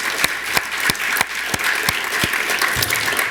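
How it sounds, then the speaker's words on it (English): Audience applause at a community meeting on the Stevens Creek restoration plan: a close, steady patter of many hands clapping with regular louder claps standing out, without talk. "Round of applause."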